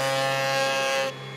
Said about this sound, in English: We use a simple routing table. Low RPM, that's the most important thing